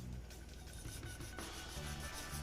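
Cut meat with bone being rubbed by hand with seasoning, a steady close rasping and scrubbing texture that continues without pause, with no talking.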